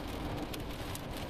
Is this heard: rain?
yes